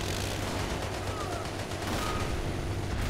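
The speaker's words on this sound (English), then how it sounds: "Man, we're taking fire from something heavy." Heavy gunfire rattles continuously from a World War II tactics game running the RobZ Realism Mod, dense, loud and unbroken, with overlapping bursts of shots filling the whole stretch.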